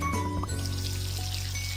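Water pours and splashes while rinsing foam off dishes in a pet care video game, a short continuous watery gush with a light tinkle over a steady background hum.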